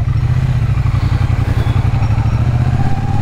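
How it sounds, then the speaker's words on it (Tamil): A Triumph Bonneville T120 motorcycle engine runs close by as the bike is turned around, a loud, steady, throbbing mechanical idle with slight clatter, no talk. "ஒரே நிமிஷம் நான் வண்டியை திருப்பிடுறேன்"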